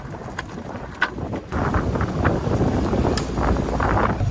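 Strong wind at sea on a fishing boat buffets the microphone in heavy low rumbling gusts, growing louder after the first second and staying steady, with faint water noise beneath.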